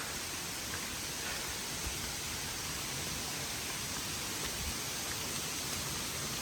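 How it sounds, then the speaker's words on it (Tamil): Water pours and flows steadily at a hillside temple stream. It gives an even, constant hiss with no breaks and no voices, at a moderate distance. "அங்கங்கே தண்ணியாக ஊற்றுது."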